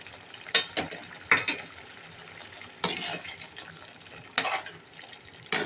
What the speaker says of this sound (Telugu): ఇప్పుడు వేపుకున్న పన్నీర్ ముక్కలు వేసేద్దాం.